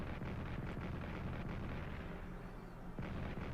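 French artillery fires in the Strategic Command World War I strategy game, a dense, continuous low rumble of booming shellfire with a few sharper blasts.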